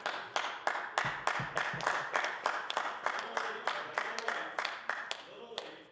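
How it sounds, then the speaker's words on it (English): Scattered, sparse clapping from a small group of legislators in a House of Assembly chamber, a steady run of distinct handclaps close by with no talk over them. "A smattering of applause, Mr. Speaker, from my colleagues."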